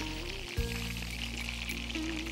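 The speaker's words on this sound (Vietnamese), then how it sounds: "Chờ cá rán đây." Fish frying in a pan of oil at an outdoor Vietnamese countryside cookout, giving a steady, close, broadband sizzle that continues without a break, with a brief clatter near the start.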